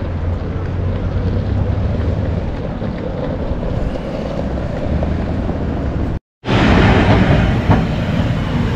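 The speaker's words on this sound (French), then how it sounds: "Ça, c'est le tramway à l'ancienne." An old-style tram rumbles past outside the main railway station in Milan, a loud continuous mechanical roar with wind buffeting, cut by a brief dropout before resuming.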